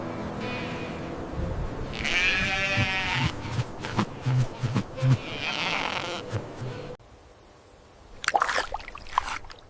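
A sheep bleats in a wavering, harmonic call, then bleats again; after a cut, a fainter burst of animal cries and clatter follows.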